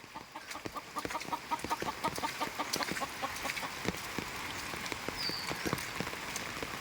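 Rain patters steadily on a surface nearby, with sharp individual drips, while a chicken clucks faintly in the background.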